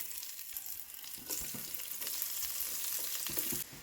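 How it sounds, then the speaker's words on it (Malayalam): Masala-coated bitter gourd pieces fry in hot coconut oil, a steady close sizzle with crackling bursts and occasional stirring clinks throughout. "വെളിച്ചെണ്ണ നന്നായിട്ട് ചൂടായി കഴിയുമ്പോൾ മസാല പുരട്ടി വെച്ചിരിക്കുന്ന പാവയ്ക്ക നമുക്കിതിലേക്ക് ഇടാം"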